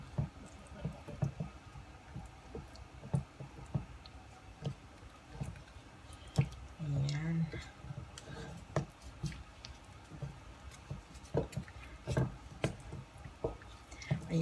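A cassava cake batter is stirred by hand in a bowl, giving soft, wet squishing and faint dripping, quiet and close with occasional light knocks.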